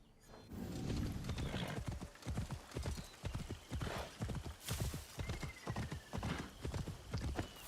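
Rhythmic clip-clop of video game horse hooves on hard ground in Assassin's Creed Shadows, steady and fairly close, with a brief whinny near the start.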